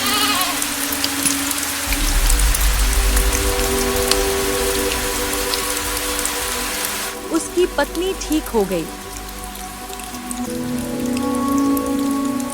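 Steady rain patters across the whole clip, with a person speaking briefly and a few animal bleats in the middle.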